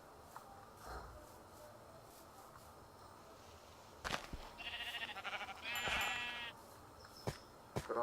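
Sheep in the Minecraft video game bleat in a few distinct, wavering calls in the second half, loud against faint background rustles and soft clicks, with no talk.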